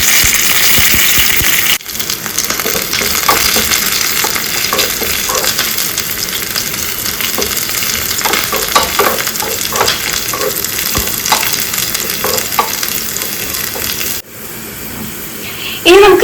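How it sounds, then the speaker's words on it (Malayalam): Curry leaves and shallots crackling in hot coconut oil for a sardine fish curry, a loud, dense close-up sizzle with spattering pops and stirring, nearly continuous throughout. "ഇനി നമുക്ക് കറിവേപ്പിലയും പിന്നെ ചുവന്നുള്ളിയും ഇട്ട് മൂപ്പിച്ചെടുക്കാം."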